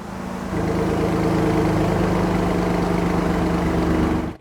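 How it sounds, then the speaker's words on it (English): Alfa Romeo Quadrifoglio engine in race mode with exhaust flaps open, a steady loud idle rumble that steps up in volume after a moment and holds before cutting off abruptly. "But if we pop it now into race mode,"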